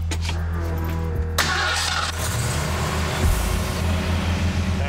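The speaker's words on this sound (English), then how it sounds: "we fixing to turn this Mustang on" Ford Mustang engine cranking and firing up, a loud close starter whir that catches into a steady rumbling idle, with no talk over it.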